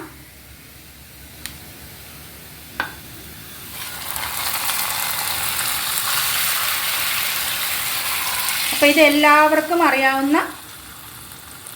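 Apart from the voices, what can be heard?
onion and crushed chili tempering sizzling in a pan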